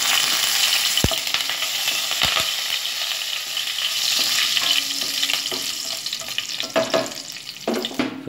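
Curry leaves and asafoetida sizzle in hot oil for mor kuzhambu, a loud, steady crackling hiss close by, punctuated by a few sharp clinks and scrapes of a utensil, without talk.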